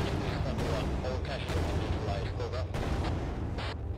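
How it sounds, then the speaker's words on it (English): Grenade blast and heavy gunfire in a cooperative military shooter video game set in a cave, a dense continuous roar of explosions and shots throughout. "I'm going to toss a grenade from here."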